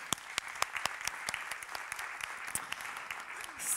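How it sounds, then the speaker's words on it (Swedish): Audience applause for panel participants at an Internetdagarna 2018 AI panel, steady clapping from a crowd lasting several seconds with sharp individual claps standing out. "En applåd till er."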